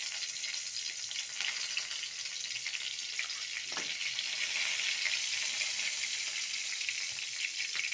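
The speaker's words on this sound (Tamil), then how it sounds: "ஒரு கடாய் வச்சுக்கிட்டு சூடானட்டு கொஞ்சோண்டு எண்ணெய் சேர்த்துக்கலாம்." Cinnamon and cloves fry in hot oil in a kadai, making a soft, steady, even sizzle that stays close but fairly quiet throughout, with no voices.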